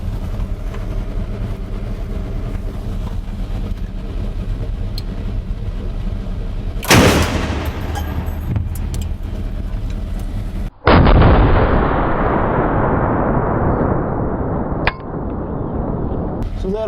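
A tank cannon fires at a wall: steady loud engine rumble, then a sharp blast around seven seconds with a lingering roar, followed by a second massive boom and a long crumbling, debris-filled wash that slowly fades.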